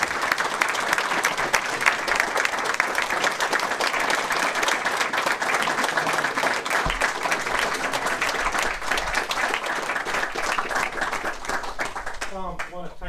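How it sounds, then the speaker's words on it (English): An audience applauds after a talk on dereliction given to the Old Drogheda Society, sustained dense clapping that fills the room evenly and only begins to thin out at the very end. "if I didn't interrupt, the applause would have went on a lot longer"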